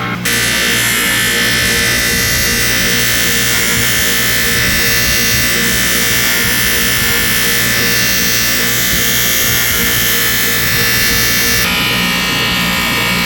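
Steel is polished with compound under a constant, loud, buzzing mechanical whine that continues without a break, with a slight change in tone near the end.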